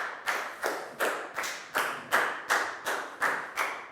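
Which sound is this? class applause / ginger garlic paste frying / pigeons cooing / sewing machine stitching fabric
class applause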